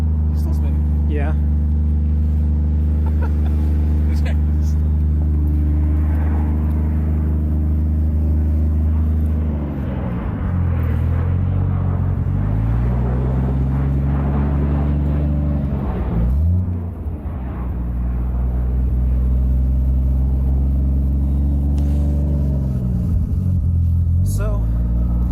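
A car stuck in a driveway on the wrong tires revs its engine with a steady, loud low rumble as the wheels spin, the pitch dipping and rising a few times, with people talking over it.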